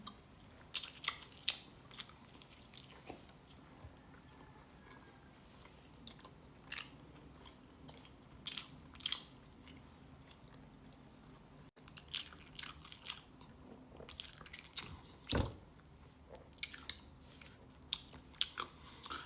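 Close, repeated bites and wet crunchy chewing of cheesy buchi, a Filipino fried sesame rice ball, coming in irregular bursts over nearly twenty seconds, with a few soft murmurs.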